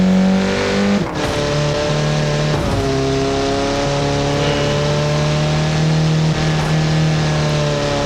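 A 1.9 TDI diesel engine fitted in an F1 car drones loudly and steadily, its tone holding with brief dips and shifts in pitch as it revs, close and continuous.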